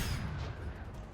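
Explosions in the video game Generation Zero, a loud, dense rumble of low booms and crackling blasts that keeps going for the whole moment with no gaps.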